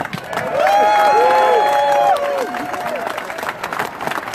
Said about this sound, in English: everyone give a round of applause for Jared.